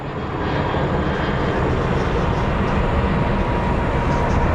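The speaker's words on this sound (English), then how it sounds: "That is our Chicago-bound Dreamliner. It's going to be making its way over." Boeing 787 Dreamliner airliner bound for Chicago passing at Phoenix Sky Harbor International Airport, a loud continuous broadband jet roar that holds steady and swells slightly throughout.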